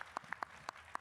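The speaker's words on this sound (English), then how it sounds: "let's give these mayors a warm round of applause" A few scattered handclaps from the audience at a mayors' roundtable, brief, distinct claps spaced irregularly over about a second with little else around them.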